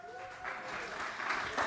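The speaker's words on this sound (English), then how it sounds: "I think, Raoul, that applause was for me, wasn't it, of course?" Audience applause for a panel speaker at a live conference event, a steady wash of clapping at moderate level throughout, with a murmur of voices mixed in.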